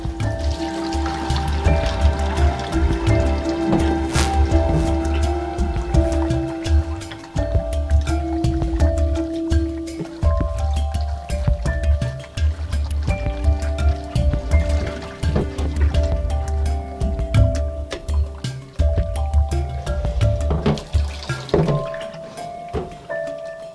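Seitan dough is kneaded by hand under a running kitchen tap, a continuous stream of splashing water with squelching and sloshing, steady and close throughout.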